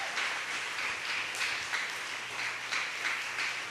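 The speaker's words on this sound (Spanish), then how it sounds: "Dele un aplauso al Señor." A church congregation applauds in a steady, dense wash of clapping that holds at an even level from start to finish, with no voices standing out above it.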